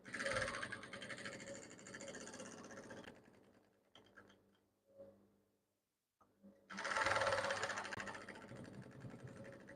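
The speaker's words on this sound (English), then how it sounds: "I'm just making sure I am stitching it on that center line." A sewing machine runs steadily, stitching kimono fabric along a center line, with a loud continuous whir that stops for a few seconds of quiet handling sounds, then starts again just as strongly.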